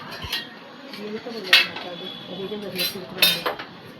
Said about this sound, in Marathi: आता मी भांडी घासते